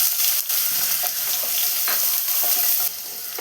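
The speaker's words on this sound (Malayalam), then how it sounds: "ഇതിലോട്ട് നമുക്ക് സവാള ഇട്ട് കൊടുക്കാം ചോപ്പ് ചെയ്ത് വെച്ച രണ്ട് മീഡിയം സൈസ് സവാളയാണ് ചേർത്ത് കൊടുക്കുന്നത്" Two medium chopped onions hit hot coconut oil in a pan and fry with a steady, loud broadband sizzle, broken by a few crackles and stirring scrapes, with no talking.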